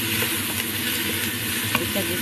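Chopped vegetables sizzle and crackle steadily in a hot pan while being stirred for minestrone soup, a close, continuous frying hiss with small scraping stirs.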